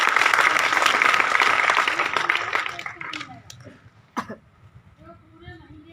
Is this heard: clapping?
yes